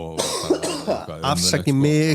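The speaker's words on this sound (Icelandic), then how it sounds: "afsaki hóstið" A person coughs a few times between bursts of speech in Icelandic, with the coughs breaking up the talking.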